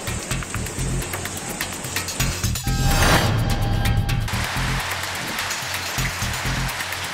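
Heavy rain pours with a steady, dense hiss, and runoff rushes along roads during a widespread thunderstorm. A louder burst of splashing comes midway. No distinct thunder stands out and no one speaks.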